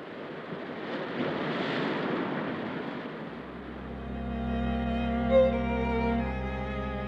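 Ocean waves wash over a limestone shore in the Mingan Islands, a broad rushing surf for the first few seconds before a steady tonal hum takes over and the water sound fades beneath it.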